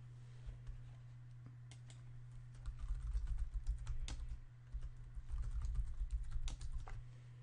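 Fingers type a password on a computer keyboard in quick, irregular bursts of close key clicks with a short pause midway, over a faint steady hum; no one speaks.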